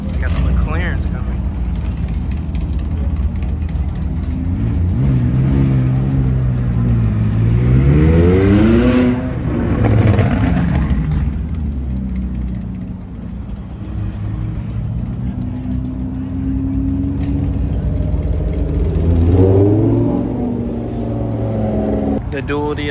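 Several McLaren cars rumble and rev as they roll past at an outdoor car meet, engine pitch rising and falling close by over a constant crowd background.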